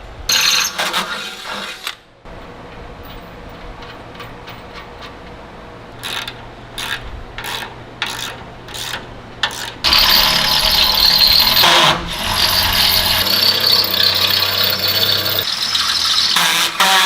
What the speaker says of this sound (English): I'll go ahead and drill my next hole.